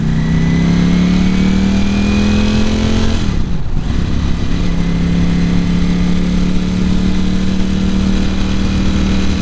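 A 2018 Ducati Panigale V4 motorcycle engine roars loud and close throughout a test ride, pitch climbing, dipping briefly around a gear change, then steadily rising again under strong acceleration, with heavy wind rush.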